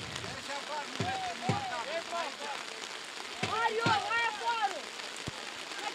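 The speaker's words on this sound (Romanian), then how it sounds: "Din nou a revenit ploaia torențială aici la Bicaz" Torrential rain hammers down during a promotion playoff football match at Bicaz, Romania, in 2007, a steady dense hiss throughout, with voices rising briefly over the downpour.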